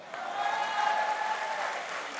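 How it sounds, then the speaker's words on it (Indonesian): Audience applause in a hall during a Golkar party speech: a steady, moderately loud wash of clapping that swells slightly and holds for about two seconds, no talk. "Aplaus dulu, beri dulu dong."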